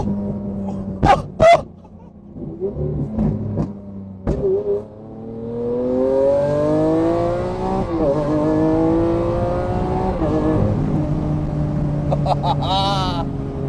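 A car engine revs hard and rises in pitch over several seconds, loud and sustained, after a few short bursts of sound at the start.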